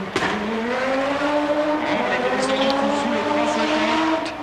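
An Audi Quattro S1 rally race car, driven by Blomqvist, powers through a double hairpin on a loose gravel and sand stage, its engine note rising and falling steadily with tire scrabble, while a commentator talks over it throughout.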